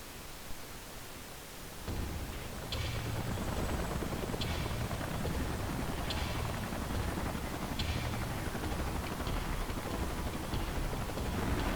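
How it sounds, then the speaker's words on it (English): A steady rotor wash of salvage helicopters rises in Xenoblade Chronicles X, swelling in after a quieter opening into a continuous broadband roar with a faint rhythmic thump, no voices. "Let's call in the salvage choppers and get it out of here."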